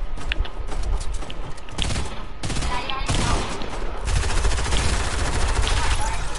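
Rapid bursts of automatic gunfire crackle through a video game firefight, dense and loud over a steady background din, with a voice talking partway through.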